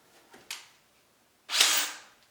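A DeWalt cordless drill drives a screw in two short bursts, a brief whir followed by a longer, louder spin, close by with quiet gaps between.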